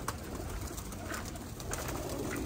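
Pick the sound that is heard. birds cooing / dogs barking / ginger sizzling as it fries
birds cooing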